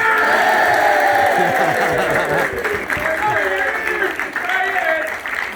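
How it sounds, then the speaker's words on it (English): Crowd at a football academy graduation day clapping and cheering for a graduating player, a continuous wash of applause with whoops, and an announcer's voice over it. "Give him a clap"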